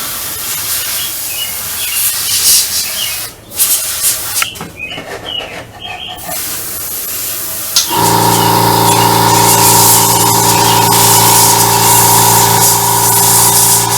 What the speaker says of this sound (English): the sound of bird song and the compressor going off in the background